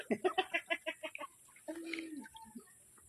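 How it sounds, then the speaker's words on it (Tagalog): Chickens clucking and squawking at a tilapia pond, a rapid run of loud, close clucks followed by a longer squawk and a few scattered calls. "Oh, gustong lumangoy yung manok."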